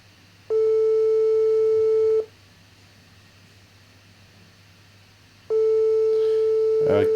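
A phone line gives two long steady beeps during a call that fails to connect, separated by a few seconds of quiet hiss, with faint background noise.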